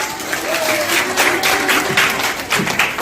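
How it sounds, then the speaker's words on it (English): Audience clapping at an eco film festival at a college in Shaikpet, Hyderabad, a steady sustained patter of many hands filling the room for several seconds, with faint voices mixed underneath. "So, big clap for the Pujita."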